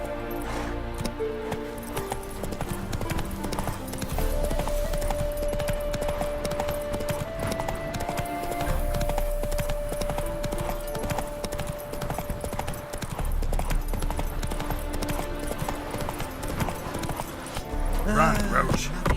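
Roach the horse gallops in The Witcher 3, steady hoof clip-clop drumming under a continuous music score and game effects, with a voice speaking occasionally over it.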